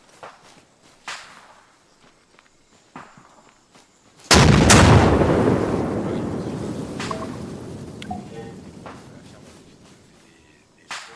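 A sudden loud blast booms out in the game Unsung Conflict, followed by a long rumbling decay, with scattered sharp cracks and artillery thuds before and after.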